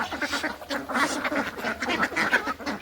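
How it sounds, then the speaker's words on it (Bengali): Farm ducks and chickens crowd in for their morning feed, with dense, overlapping quacking close by that carries on without pause for the whole short stretch. "আপনাদেরকে দেখাচ্ছি আমার হাঁস মুরগির সকালবেলার খাবারের দৃশ্য"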